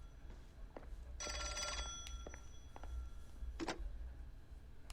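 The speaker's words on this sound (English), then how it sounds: "we're gonna answer the goddamn telephone because it won't stop ringing" A ringing telephone in the video game LA Noire, a burst of bright electronic bell trills repeating in quick succession, fairly faint against a quiet background with a few soft clicks.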